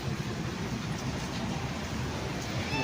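Steady hiss of rain falling, a continuous even wash of noise with no distinct events and no voices.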